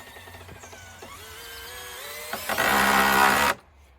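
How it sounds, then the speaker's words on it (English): Power driver running screws into a wooden crop-protection cage frame, several short whirring bursts that build into a louder sustained drilling whine before cutting off sharply; fairly quiet and close, with no talk. "we've been screwing them together"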